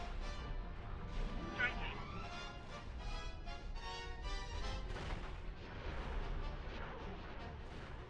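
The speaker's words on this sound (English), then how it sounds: "Like I see some explosions over there on the ring." Heavy booming blasts and rumbling explosions on a ring in space game X4 Foundations with a Star Wars mod roll continuously under a dense game soundtrack, with a person talking over the action.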